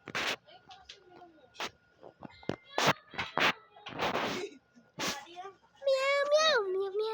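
A voice imitates a cat meowing, a few rising and falling mews near the end, preceded by scattered bursts of chatter and talk.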